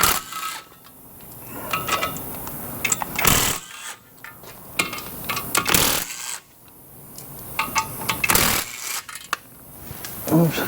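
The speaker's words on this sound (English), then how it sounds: "let's get these 10mm bolts out" 10mm bolts come out during a Mazda 3 clutch replacement, with metallic clinks, ratcheting clicks and clattering bursts repeating over a steady workshop background.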